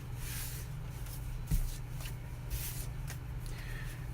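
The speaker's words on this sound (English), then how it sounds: "I may riffle shuffle it twice just for old time's sake" A deck of 76 cards being riffle shuffled at a tournament table, with soft papery shuffling and a sharper flutter of cards over a steady background hum, at moderate level and no talk.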